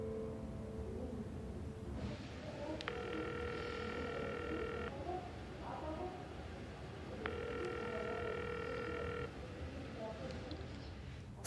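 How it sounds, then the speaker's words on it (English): A telephone ringing unanswered, with two long ring bursts of steady repeating tones separated by a pause, heard over a quiet room background. "She's not picking up the phone."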